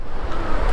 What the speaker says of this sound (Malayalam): അവിടെ നിന്ന് ആ വെള്ളം ഒഴുകി പോകുന്ന ഒച്ചയാണ് നമ്മളിപ്പോൾ കേട്ടത്